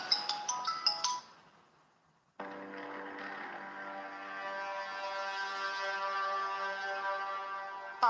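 A phone ringtone plays with a quick run of bright chiming notes, falls silent briefly, then rings again as a sustained, buzzing electronic tone that goes unanswered, with no voices.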